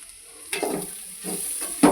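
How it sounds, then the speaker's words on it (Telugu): Egg and chirri greens stir-frying in a pan, with a soft continuous sizzle and a few brief scraping stirs, quiet and close, with no talking. "మంచిగా మిక్స్ చేసుకొని వేగనిద్దాం"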